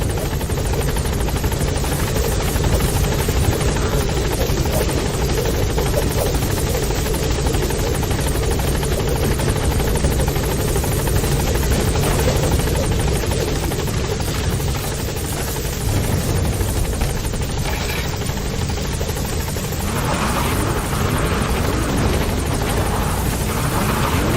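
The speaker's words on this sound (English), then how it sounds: "Support helicopter has arrived." A support helicopter arrives for extraction in the video game Metal Gear Solid V: The Phantom Pain, its rotor roar loud and steady throughout, close and continuous with no voices over it.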